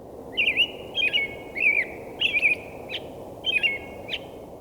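An American robin sings its sing-song carol, a series of short, separated whistled phrases repeated about five times, over a steady outdoor background hiss.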